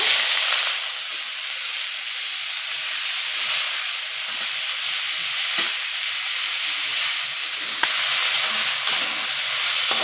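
Bathua greens stir-fried in a pan with garlic and red chilies that were fried first, giving a steady close sizzle and hiss of hot oil with occasional soft scraping from stirring, no voices.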